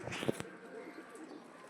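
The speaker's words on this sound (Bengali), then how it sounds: "পায়রাটা দেখুন কত সুন্দর পায়রা" A pigeon gives a short, soft coo near the start, followed by quiet background noise.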